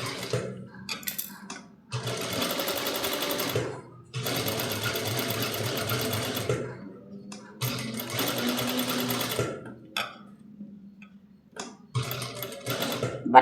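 A sewing machine stitches a neck design on a garment in bursts, with several loud, fast whirring runs separated by short pauses, while quieter handling noises and brief talk fill the gaps.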